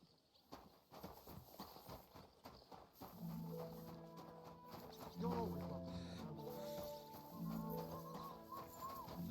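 A horse in Kingdom Come: Deliverance II clip-clops along at a steady walking rhythm, with a short whinny, as game music fades in beneath the hoofbeats.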